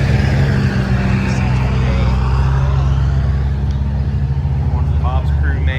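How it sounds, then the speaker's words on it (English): Steady low engine drone of a classic truck running on a car cruise, loud and continuous throughout, with speech-like sounds over it. "Truck's running good."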